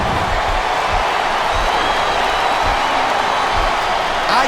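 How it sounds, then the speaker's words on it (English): A crowd at a televised wrestling match in WWE SmackDown vs Raw 2007 on Xbox 360 cheers in a steady, loud, continuous roar that fills the whole stretch without letting up. "I can't remember the last time I seen a crowd so pumped up."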